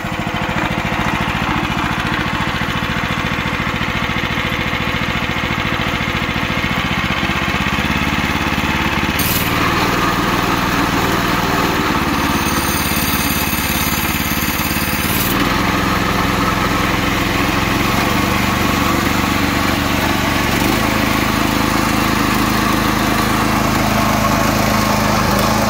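A homemade surface drive boat motor runs steadily and loudly throughout, a continuous small-engine drone with slight shifts in pitch and a few brief changes midway, no talking over it.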